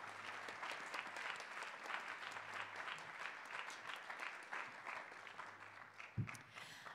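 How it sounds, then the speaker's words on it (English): Concert audience applauding the volunteers at a university concert band and jazz concert, a steady wash of many hands clapping, quiet and distant, continuing evenly for several seconds with a brief bump near the end. "can we just give a round of applause for all of our volunteers for helping us out?"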